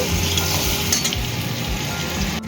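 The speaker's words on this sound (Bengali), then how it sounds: "এবারে তেল গরম করে তার মধ্যে কিন্তু আমি লবণ দিয়ে সুন্দর করে আলুগুলোকে লাল লাল করে ভেজে নেব।" Potatoes frying in hot oil with salt, giving a steady, close crackling sizzle with faint stirring scrapes throughout, and no voices.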